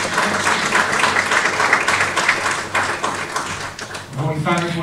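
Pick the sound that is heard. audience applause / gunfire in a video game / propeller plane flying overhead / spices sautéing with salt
audience applause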